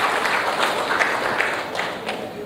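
Audience at the Air Cargo India 2016 keynote event giving a short, steady round of applause, a continuous spread of clapping throughout.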